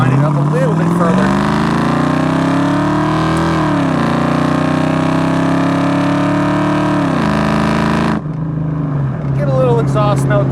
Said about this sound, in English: Get a little exhaust note there for you.